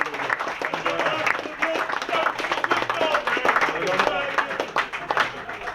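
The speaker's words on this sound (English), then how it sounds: "So a big round of applause for them." At a football club's presentation night, a room of people claps in a dense, sustained round of applause, with voices murmuring underneath.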